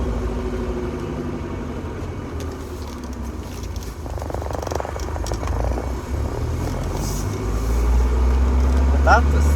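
A car engine drones loudly from close by with the rear seat removed, rising into a heavier rumble near the end, with occasional talk over the noise.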